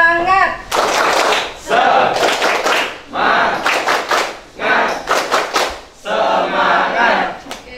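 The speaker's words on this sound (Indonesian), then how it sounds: "Tepuk semangat." A classroom of children performs a rhythmic group spirit clap in several bursts, with shouted chants between the claps. The sound is loud and close, with pauses between the bursts.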